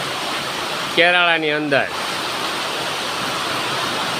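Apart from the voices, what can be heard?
heavy monsoon rain pouring in village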